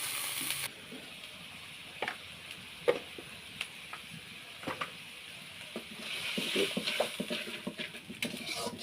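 Shrimp cooking in a pan with onion paste, chili powder and ginger paste, giving a soft, steady sizzle close by, broken by occasional stirring clicks and taps, with the frying growing denser toward the end.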